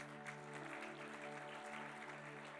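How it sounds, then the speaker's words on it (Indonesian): A church congregation claps at a sermon, a quiet, sustained patter of many hands under a droning sustained tone. "Tepuk tangan untuk Tuhan Yesus"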